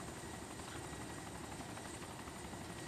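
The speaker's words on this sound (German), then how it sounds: "Sehe gleich nur noch, wie der Heli runtergeht." A helicopter in the video game DayZ Epoch drones as a steady, loud rotor and engine roar that holds unbroken throughout, with no voices.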